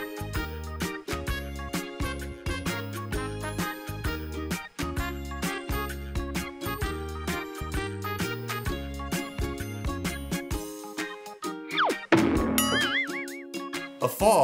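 A cat gives a couple of brief, wavering meows near the end, following a long stretch of loud music.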